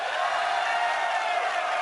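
A sold-out arena crowd at the MLG Orlando finals roars in a dense, continuous wash of cheering, steady and fairly loud throughout.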